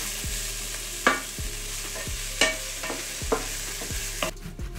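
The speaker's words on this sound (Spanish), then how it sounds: "Le pongo la temperatura más o menos media y lo vamos a dejar que se poche todo bien." Vegetables sautéing in oil over medium heat in a pan for tuna marmitako, giving a steady soft sizzle. A spoon scrapes and stirs through it in a repeated rhythm of bumps, and no one speaks.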